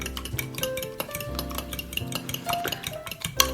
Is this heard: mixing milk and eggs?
yes